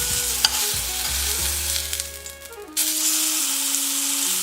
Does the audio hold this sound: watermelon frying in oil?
yes